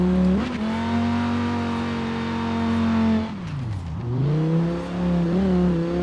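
A car engine in Forza Horizon 4 drones loudly at steady revs, then drops sharply as the throttle lifts and climbs back up, with a strong tonal note that sounds like an Audi five-cylinder.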